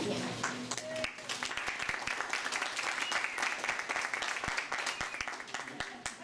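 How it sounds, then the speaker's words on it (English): An audience at an evening lecture applauds, a dense burst of clapping that runs throughout with some cheering voices mixed in. "You're clapping already."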